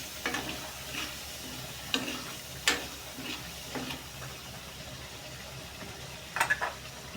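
Tomato paste stirred into a frying pan while cooking cauliflower curry: faint, intermittent spoon taps and scrapes against the pan over a soft background sizzle, with a few sharper clicks.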